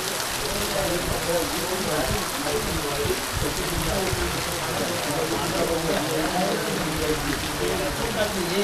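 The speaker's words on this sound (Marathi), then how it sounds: "तर मित्रांनो पाऊस बघा जोरदार आलाय" Heavy rain pouring outside a village house in Rajapur, Konkan, a dense steady hiss of drops on surfaces throughout, fairly loud and unbroken, with faint voices now and then beneath the downpour.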